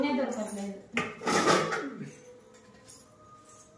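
Pots and steel dishes clatter and clink as someone rummages for a vessel in a home kitchen, a few sharp close bursts of rattling in the first two seconds, with a voice speaking over them.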